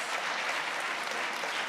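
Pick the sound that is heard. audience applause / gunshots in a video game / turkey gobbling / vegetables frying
audience applause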